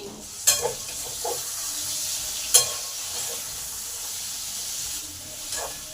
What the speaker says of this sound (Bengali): এবার আলুটাকে 8 মিনিটের জন্য চাপা দিয়ে দিলাম, যাতে আলুটা ভাজা ভাজা হবে আর সেদ্ধও হবে।